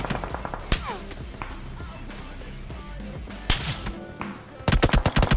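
In the BGMI battle royale game, rapid bursts of gunfire crack out close and loud, with single shots and thuds mid-clip and a fast automatic volley at the end.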